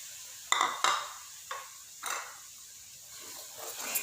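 A spoon scrapes and stirs semolina roasting in a pan for halwa, giving a few sharp intermittent scrapes and clinks with quiet gaps between them.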